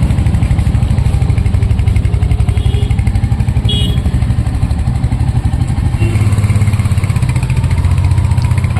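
A new motorcycle's engine runs close by in a steady, loud, rapid thumping idle that continues without a break.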